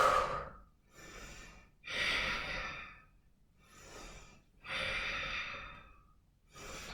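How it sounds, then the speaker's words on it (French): Slow, deliberate breaths during a yoga exercise, heard up close: long airy inhales and exhales alternate in a steady rhythm with short silent pauses between them. "Inspirez, expirez, inspirez et expirez."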